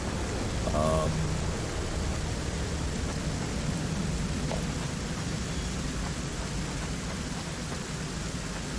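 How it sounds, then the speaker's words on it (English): Steady rain falls throughout, a constant broadband hiss with soft patter that stays even and moderately loud from start to end, with no voices over it. "But it just started raining, and I thought I would include that because the rain is nice."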